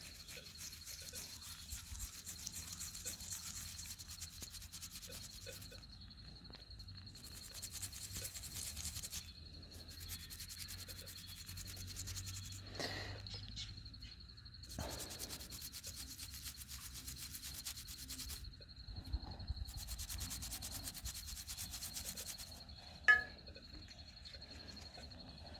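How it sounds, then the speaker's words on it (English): An old coin soaked in lemon juice is scrubbed with a toothbrush, giving soft, close rubbing strokes in repeated bursts with brief pauses, over a faint steady background hum. "when you rub up this with a toothbrush here"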